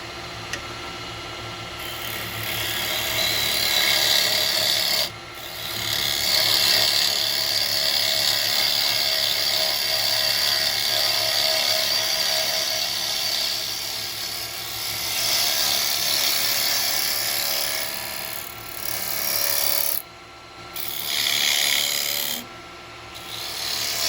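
A GT SCH 4 carbide chisel hollows and undercuts a wooden bowl on a spinning lathe, giving a loud continuous rasping scrape that dips briefly several times as the cut pauses.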